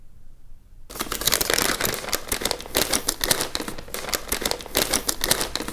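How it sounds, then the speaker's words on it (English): Plastic bag being opened for a computer expansion card, a dense run of close crinkling and rustling that starts abruptly after a brief silence and continues in uneven bursts. "I'll just start by opening up this plastic bag"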